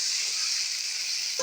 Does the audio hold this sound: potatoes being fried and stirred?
yes